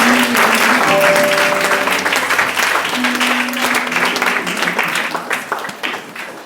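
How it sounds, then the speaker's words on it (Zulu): A church congregation at a Sunday service rises and applauds, a loud, sustained wash of clapping that fills the room and slowly thins out toward the end. "Asukume sonke sishaye ihlombe one more time."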